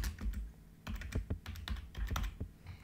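Keystrokes clatter on a computer keyboard while a quiz program is written in Python, coming in quick close bursts of taps with short pauses between them and no voices.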